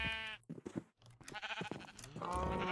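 Minecraft sheep bleat in several wavering calls, clear and close, with a brief gap between them.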